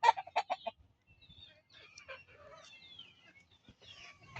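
Desi chickens cluck and squawk in a short burst of loud calls, then quieter scattered clucking and chirping follows at a moderate distance.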